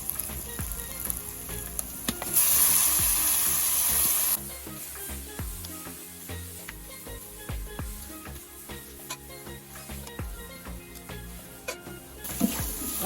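Kolmi shak greens hit a pan of fried onion, garlic and slit green chillies, giving a bright burst of sizzle that settles into steady frying with scraping stirs and occasional clatter.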